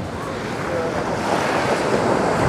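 Stormy sea surf and strong wind roar on the beach at Anapa, a continuous broad rushing wash of breaking waves mixed with heavy wind buffeting the microphone, loud and unbroken.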